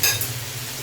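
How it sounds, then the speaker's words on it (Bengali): Vegetable bhaji with coriander leaves stirred in a pan, a brief close scrape over a low steady sizzle. "এখন ধনেপাতাটা দিয়ে কিছুক্ষণ নাড়াচাড়া করে"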